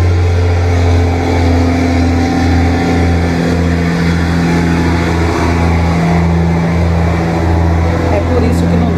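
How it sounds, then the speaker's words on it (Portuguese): Heavy truck rumbling past outside a house, a loud, steady low drone that fills the whole stretch without a clear rise or fall. "caminhão passando"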